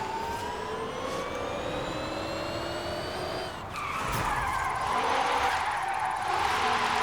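A 1000 hp electric Hyundai N Vision in Forza Horizon 5 sliding hard, its rising whine giving way to a loud sustained tyre skid and screech, heard without talking.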